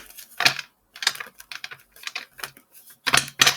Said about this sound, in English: Let's shuffle these again separately, 2 different piles, because I didn't like that shuffle